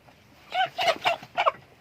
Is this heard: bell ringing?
no